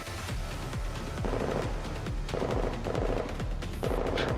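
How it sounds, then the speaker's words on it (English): Rapid bursts of automatic gunfire crackle and pop continuously in the video game Girls' Frontline, with dense overlapping shots and a steady rumble underneath, sounding like a heated firefight. "The sound of gunfire fades behind them."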